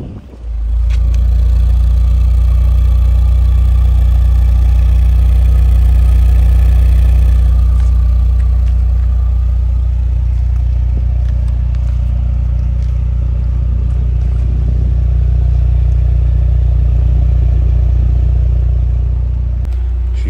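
The four-cylinder engine of a 2024 Mercedes-AMG GLC43 in sport plus mode with active exhaust open, heard from behind as a loud, deep, steady idle rumble that holds for twenty seconds with slight swells and no talking.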